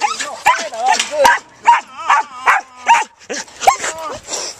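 A Samoyed Border Collie mix dog barks and whimpers in a run of short, close yips and whines at a kennel pickup, with a person speaking over some of the sounds.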